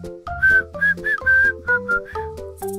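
A person whistles a short, clear melody of distinct notes close by while walking along a street.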